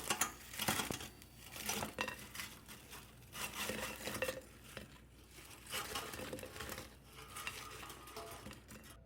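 Frozen steak fries are pulled from an air fryer basket, with irregular clattering, scraping and rustling of the basket and fries in bursts close by.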